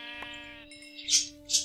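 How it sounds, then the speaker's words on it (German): Sheep bleating in Minecraft, two short synthetic bleats near the end following a steady tonal game background and soft rhythmic footstep-like taps, fairly clear and close. "Da hinten ist auch noch ein Schaf."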